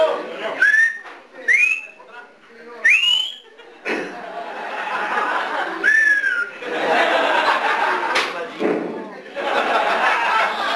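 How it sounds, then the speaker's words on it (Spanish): Several short rising human whistles, loud and close, interrupted by bursts of chatter and laughter from a noisy crowd at a clown comedy party show. "Ya se pusieron de acuerdo con cuál va a chiflar."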